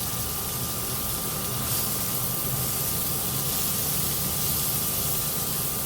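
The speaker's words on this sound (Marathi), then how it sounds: "हे तेलावर 2 मिनिटं छान भाजून घेऊया" Onion frying in oil in a pan, a continuous loud broadband sizzle that holds steady and unbroken throughout.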